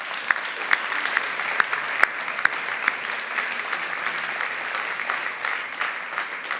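Sustained applause from an award ceremony audience, a dense steady wash of many hands clapping at moderate level with a few sharper individual claps standing out, no voices on top.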